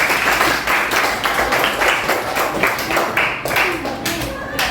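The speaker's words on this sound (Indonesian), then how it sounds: "berikan tepuk tangan pada kelompok 4 ya" An audience claps for a student group performing in class, a dense stretch of hand claps with voices talking over it throughout.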